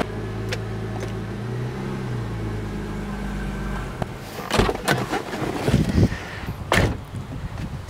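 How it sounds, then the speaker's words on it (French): A Porsche Boxster 986 flat-six engine runs at a steady idle for several seconds, then gives way to louder clunks, knocks and irregular bursts of noise nearby. "je la démarre, et la sonorité de ce flat 6, c'est chouette"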